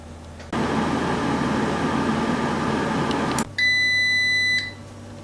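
A countertop air fryer hums steadily, then a single sustained electronic beep rings out for about a second as its temperature setting is changed.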